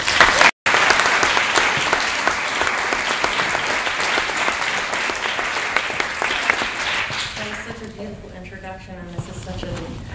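An audience claps in a lecture hall to welcome an artist, with steady, full applause that gradually thins and fades, and a voice then begins speaking near the end.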